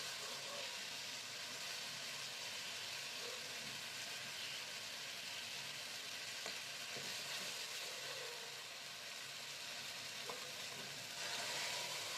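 Oil with nigella seed tempering and mustard-based spice paste for a fish curry, frying as a soft, steady hiss with a few faint clinks, quiet and unbroken by speech.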